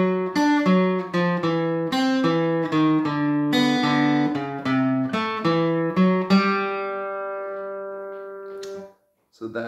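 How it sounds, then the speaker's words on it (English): A boogie woogie lick in D rings out on a guitar, with a quick run of plucked notes in a bouncy rhythm, then a final chord left to sustain and fade before a short cutoff, close and alone. "I'm going to show you a little D lick I just played in there"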